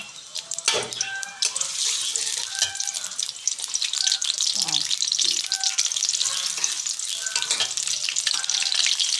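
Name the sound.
onions frying in oil for cooking lotus taro stems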